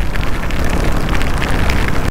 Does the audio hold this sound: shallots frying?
no